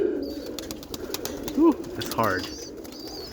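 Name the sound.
roller pigeons cooing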